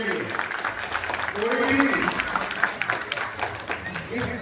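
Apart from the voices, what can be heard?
crowd applause for the leadership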